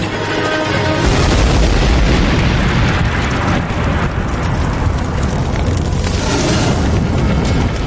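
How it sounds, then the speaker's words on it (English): A loud, deep boiler explosion booms at a chemical plant and rolls into sustained roaring rumble, dense and close, filling the whole stretch without any voices. "flames hit the boiler, causing a massive explosion."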